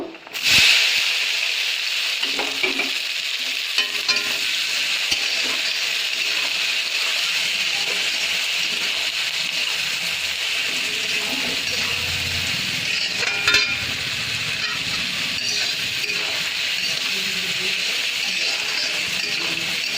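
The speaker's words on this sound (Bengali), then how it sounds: "পেঁয়াজটা লাল করে ভেজে নিতে হবে।" Onions sizzle in hot oil with fried spices while Aloo Dum is being cooked, giving a steady, bright hiss with a few sharp clicks and small bursts throughout.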